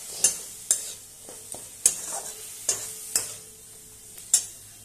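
Spice masala paste fries in hot oil while a spoon stirs it. Close, sharp scrapes come at an irregular rhythm against a soft, steady sizzle, with no voices.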